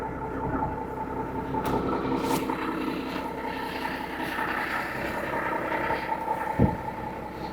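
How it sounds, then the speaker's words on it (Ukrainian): An old, dirty diesel engine idles on DME fuel with a steady low rumbling drone and some wind noise across the microphone, without talk. "І у нас працює він на холостому просто ідеально."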